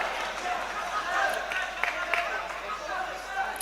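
An arena crowd at an AMMA Championship fight roars steadily in support of Uzbek fighter Abdusalimov, a dense, continuous wash of cheering with scattered claps and shouts.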